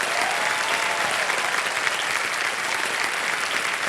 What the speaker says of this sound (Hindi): तालियां बज जाए आनंद राजू के लिए